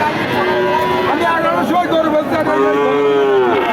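Friesian cross cattle low and moo close by amid a busy livestock market crowd, with people chattering and haggling over prices underneath the drawn-out bellows.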